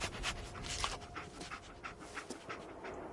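The dog Dogmeat in the video game Fallout 4 panting, with rapid rhythmic breathy huffs over a noisy background, close and steady throughout.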